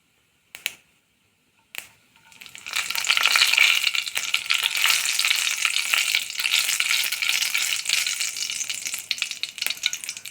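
Mustard seeds popping and spluttering in hot sesame oil, opening with a couple of isolated crackles, then a loud, dense, continuous sizzle of rapid pops lasting several seconds, no talking.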